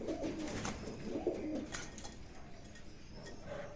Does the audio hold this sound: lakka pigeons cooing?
yes